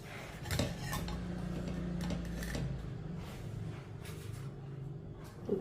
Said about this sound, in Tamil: இப்போ கரண்டியை வச்சு திருப்பி போட்டுக்கிறோம்ப்பா.